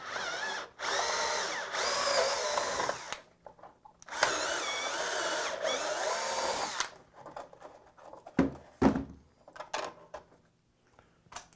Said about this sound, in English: Need to drill these holes out.